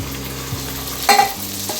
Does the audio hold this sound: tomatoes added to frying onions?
yes